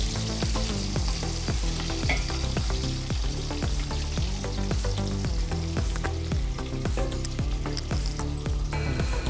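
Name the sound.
chopped onions frying in oil for chicken biryani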